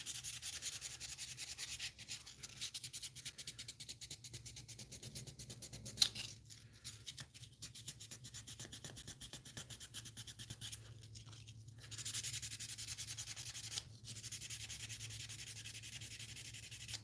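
Sandpaper, likely 800 grit, rubs a plastic part of a 1/60 NeoGrade Sazabi Gunpla kit in steady back-and-forth strokes, close and fairly quiet, with short pauses and one sharp tick partway through.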